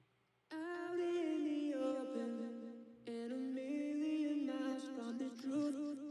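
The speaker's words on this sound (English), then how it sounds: "So for this I use Fruity Delay 3. I set the time to 2, ping pong mode" A sung vocal line processed through FL Studio's Fruity Delay 3 in ping-pong mode, sustained tones with echoes trailing behind, in two loud phrases with a short gap between them, in a progressive house mix.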